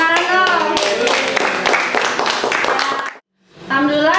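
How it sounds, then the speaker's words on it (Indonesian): A class of students in a biology lesson claps together in a dense, steady burst for about three seconds, with children's voices calling out over the applause, then the clapping stops abruptly and voices return after a brief silence. "Tepuk tangan dong."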